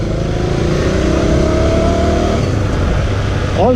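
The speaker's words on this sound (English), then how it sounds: "Traffic everywhere, confusion." Busy street traffic with cars and motorcycles revving and passing nearby, a steady loud engine roar throughout with no one speaking.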